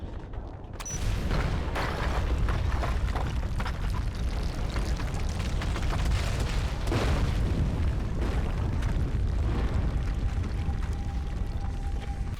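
Bombs planted inside a building bring it down in Far Cry 4, a sudden loud blast followed by sustained heavy rumbling and debris roar that fills the whole stretch.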